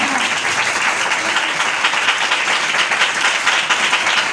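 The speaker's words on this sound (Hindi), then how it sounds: "और जोरदार तालियां।" A church congregation claps loudly and continuously, a thick, even roar of many hands that holds steady throughout without voices on top.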